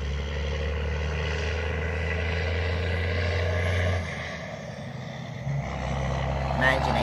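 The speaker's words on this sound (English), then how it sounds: "I came out here to get away from the traffic, and that's all you hear." Steady rumble of road traffic heard from a car window in the countryside, a low droning roar that eases midway and swells again, with talk over it.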